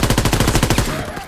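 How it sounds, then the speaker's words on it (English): Assault rifle gunfire in a PS4 shooter game, a rapid loud burst of evenly spaced shots lasting about a second before cutting off, close and dominant, with a brief tail afterward. "It's an assault rifle."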